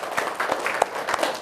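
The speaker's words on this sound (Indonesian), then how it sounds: "Kita berikan tepuk tangan dulu." Brief, light classroom applause during a teacher's lesson, a small group of students clapping in quick uneven bursts, fairly faint and close.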